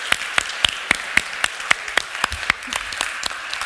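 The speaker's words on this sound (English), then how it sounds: "please, another round of applause for Rob" A small audience gives Rob a round of applause at a machine learning talk, the sparse, distinct claps spaced out and rhythmic, a handful of hands rather than a full crowd.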